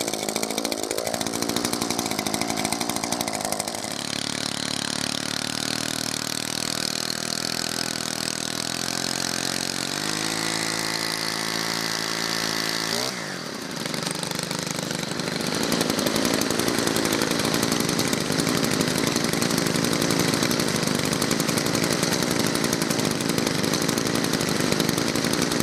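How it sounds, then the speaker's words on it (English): An Echo SRM-2620T string trimmer's two-stroke engine idles steadily and loud for the whole stretch, close by, with a brief blip in pitch partway through and no talking over it. "Let it idle for a minute and a half."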